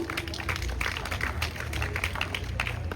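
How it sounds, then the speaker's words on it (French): An audience at a Guadeloupe trade union meeting applauds, a dense patter of many hands clapping continuously at moderate distance, fairly faint and steady throughout. "Nous applaudissons camarade Ségur."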